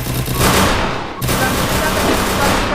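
Dense, loud video game gunfire rattles continuously in rapid bursts with a brief dip midway, as an Indonesian battle royale round gets chaotic; a voice is faintly present underneath.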